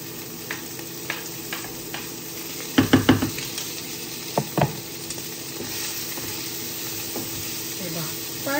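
Garlic fries in a pan with a steady close sizzle throughout, broken by a few knocks of stirring utensils against the pan.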